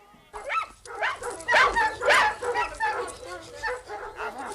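Sled dogs bark, yip and whimper in a quick run of excited, overlapping calls close by, while people shout over them.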